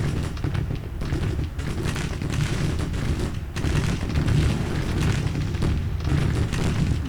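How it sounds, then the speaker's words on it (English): Artillery fire on a Grand Tactician: Civil War battlefield rumbles as a dense, continuous stretch of booms and thuds. Many shots overlap into a steady barrage that stays loud throughout, with no voices. "Oh, this artillery's still firing from back there."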